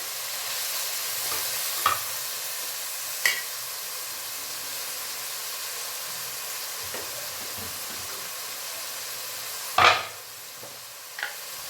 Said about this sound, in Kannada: ಈರುಳ್ಳಿ ಫ್ರೈ ಆಗಿದೆ ಈಗ ಎರಡು ಟೊಮೆಟೊನ ಸಣ್ಣ ಸಣ್ಣ ಕಟ್ ಮಾಡ್ಕೊಂಡಿದ್ದೀನಿ ಟೊಮೆಟೊನು ಹಾಕೊಳ್ತಿದ್ದೀನಿ